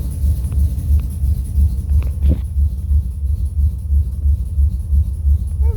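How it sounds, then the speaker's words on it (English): A 1957 Chevrolet Bel Air engine idles at about 850 to 875 rpm with a steady, low pulsing rumble close by, and a few faint clicks and a brief rattle. "she's idling at about"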